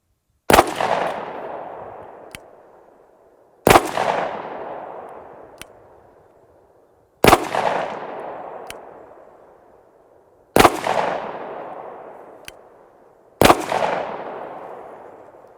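Five single gunshots at an outdoor shooting range, each a loud, sharp crack followed by a long rolling echo. They are evenly spaced a few seconds apart with quiet between them and no talking.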